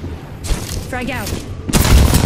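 Frag grenade blast in a shooter video game: gunfire rattles and a voice speaks briefly before a loud, close, broadband explosion bursts in near the end and rumbles on.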